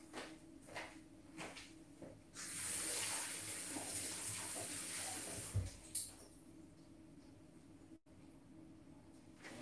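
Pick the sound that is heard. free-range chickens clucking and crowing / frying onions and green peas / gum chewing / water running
water running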